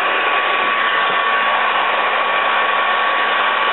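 A heat gun set near 570 degrees blows steadily on aluminum strips, a constant close airy roar with a faint whine, unbroken and even for the whole stretch.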